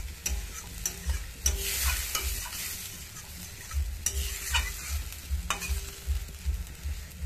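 Rohu fish curry in a pan as water goes in: a steady sizzling hiss, broken by repeated sharp scrapes and knocks of a spoon stirring against the metal.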